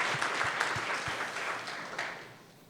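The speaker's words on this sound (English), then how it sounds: "Yeah, big round of applause." A conference audience gives a round of applause at a tech keynote, a dense wash of clapping that gradually fades out toward the end.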